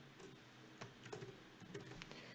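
Computer keyboard keys tapped in short, uneven bursts while entering a name into a form, quiet and close, with no talking.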